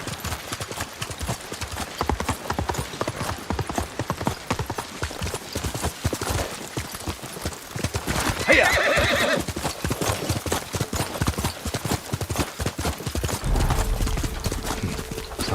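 Horse hooves galloping in the Ghost of Tsushima video game, a rapid close clip-clop beat running throughout, with a loud whinny near the middle and brief voices.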